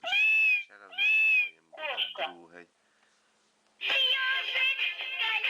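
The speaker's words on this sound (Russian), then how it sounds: "Кошка." A toy's electronic meow sounds twice in quick succession, then a voice and another bright, buzzy electronic tone follow nearby.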